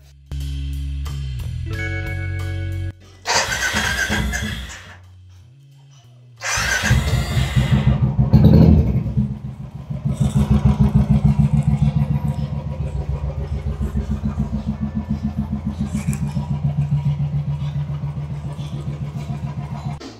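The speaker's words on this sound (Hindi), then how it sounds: "तो चलिए बाइक को स्टार्ट करते हैं" A Royal Enfield motorcycle engine is cranked a few times before firing up, then settles into a steady, close thumping idle with a regular low pulse.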